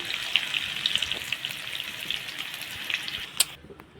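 Raw banana pieces frying in hot oil make a steady, close sizzle with scattered crackles and pops, ending abruptly.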